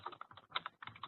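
Quick, close bursts of keystrokes tapped out on a computer keyboard as a fake email address is entered, brisk and uneven in rhythm, with no voices.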